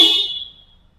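Stock horn of a Toyota Land Cruiser gives a single loud, close honk that rings briefly and then fades out, with no voices around it.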